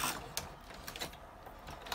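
A sewing machine back stitching fabric, a faint, steady mechanical whir and rattle with a few soft clicks and needle thumps, running alone without talk.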